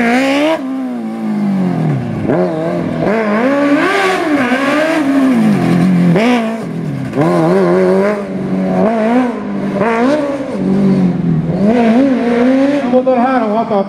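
Loud, close revving from a 1000 cc Suzuki GSX-R1000 sportbike with a sequential gearbox, the engine note climbing and dropping again and again in quick throttle blips.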